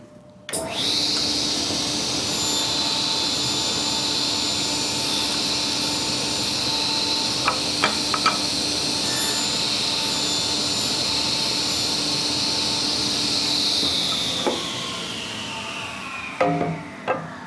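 A Logosol woodworking machine makes a steady, loud whine from start to finish with a few brief clicks and knocks partway through. It spins down near the end.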